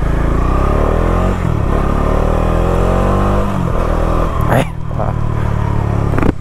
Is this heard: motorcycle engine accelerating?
yes